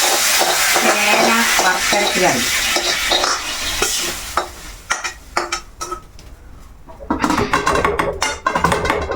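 Mustard seeds tempering in hot oil for a yam curry, a dense loud sizzle and crackle for the first half, then scattered sharp pops and spatters with brief quieter gaps.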